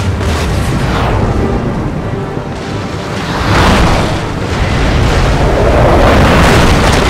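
Grapeshot cannon fire in Empire: Total War, a naval battle with loud, dense rumbling booms and blasts that roll continuously and swell toward the end, with no clear speech over them.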